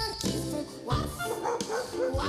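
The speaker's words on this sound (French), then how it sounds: "Des petits chiens qui font waf" Small dogs barking within a French children's song about Noah's Ark, a few yappy barks sung over music with steady accompaniment, fairly loud and close.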